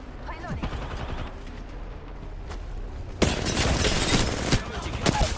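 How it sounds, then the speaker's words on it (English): Enemy gunfire in a multiplayer shooter, sporadic shots at first, then a loud burst of rapid firing, with voice chatter underneath. "The enemies are shooting at me."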